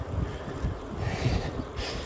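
Strong, steady wind rushing across the microphone outdoors on a cycling route through a windy countryside, a low buffeting roar with no voices.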